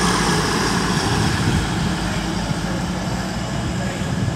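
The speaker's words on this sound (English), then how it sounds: "And we've got a Lumo service coming through" Lumo express passing through Peterborough station on the East Coast Main Line, a loud steady rushing roar of wheels and air sustained throughout, close and continuous with no voices.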